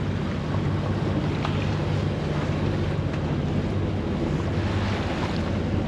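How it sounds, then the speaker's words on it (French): Sea waves wash and slap against a sailing boat under way, a constant loud rush mixed with wind buffeting the microphone, with no voices. "Et puis là on a quelques vagues."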